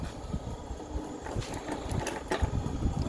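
A motorcycle engine fitted with a Pro Taper 65 exhaust idles nearby in a fairly quiet, uneven, putt-putting rumble with no talk over it.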